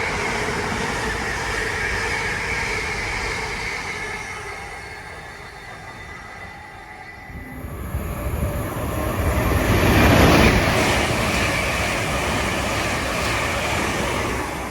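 A Tesco freight train passes through Bletchley station, a steady rumble of wagons that swells loudly as it draws near, with a brief high squeal, then stays heavy and continuous.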